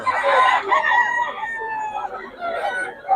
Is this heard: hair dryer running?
no